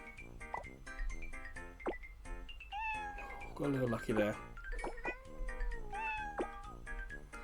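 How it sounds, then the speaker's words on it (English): Cartoon cat meows from the mobile puzzle game Block Cat Jam repeat in short, similar calls throughout, under a voice talking over the gameplay. "the cats all seem to have very similar meows"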